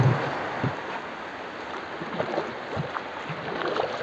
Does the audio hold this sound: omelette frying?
no